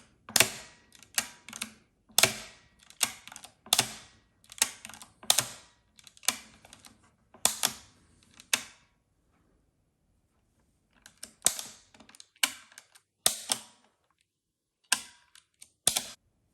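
Bursts of sharp mechanical clicking and clattering from a Marchant Standard A mechanical calculator's ratchet releasing on the return stroke, with a few seconds of silence midway before the loud clacks resume.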